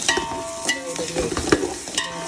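Onions and ginger garlic paste frying together for a mutton biryani masala, with steady sizzling broken by the scrape and clatter of stirring at close range, and no voices.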